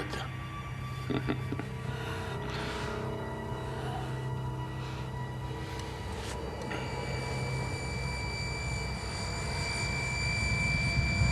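Engines of a military aircraft in a 1991 film idle and build before takeoff, a steady, dense roar with a whining hum that grows slightly louder toward the end, with no clear voices.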